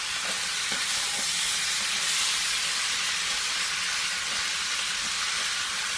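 Chicken curry with tomatoes stirred in a hot pan, a steady broad sizzle and hiss with faint scraping stirs, loud and close, no talk.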